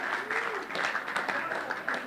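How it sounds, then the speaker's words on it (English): A church congregation claps during a Sunday service, with scattered hand claps under a voice speaking over them. "Give another clap, yeah"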